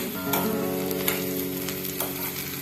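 Brinjal (eggplant) sautéing in oil in a pan for rasam: a strong, close, continuous sizzle broken by a few brief clattering stirs, with a low steady hum beneath.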